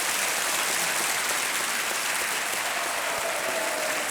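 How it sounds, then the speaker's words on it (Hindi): Steady, dense applause from a large game show studio audience fills the whole stretch without pause, loud and even throughout. "तालियां बजनी चाहिए।"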